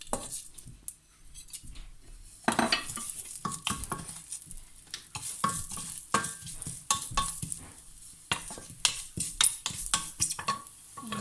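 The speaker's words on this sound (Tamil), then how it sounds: "தாளிப்பதற்கு ஒரு கொஞ்சம் எண்ணெய் விட்டு கடுகு பெருஞ்சீரகம் போடுவோம்" Mustard and fennel seeds crackle in a little hot oil in a pan for a Jaffna-style prawn curry, heard as close bursts of sizzle with repeated spoon-and-pan clinks and stirring scrapes.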